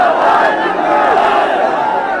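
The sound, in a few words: crowd chanting patriotic slogans at martyr's funeral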